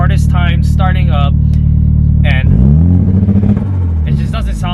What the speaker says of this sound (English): it just feels like this car is just freaking fluttering. Like it had the hardest time starting up